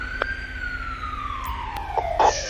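An ambulance siren in the video game GTA 5 wails with a steady tone that slowly glides downward, sounding continuously for a few seconds, with brief sharper bursts near the end.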